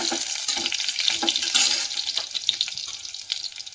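Curry leaves and a few garlic cloves, added with cumin, sizzle loudly in hot oil, a dense steady crackle close by with a few sharper pops and no talking.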